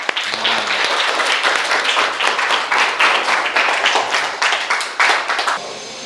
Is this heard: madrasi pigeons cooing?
no